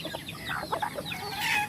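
Free-range village chickens on a traditional farm, a few near clucks and short calls in quick irregular bursts, with a brighter squawk toward the end.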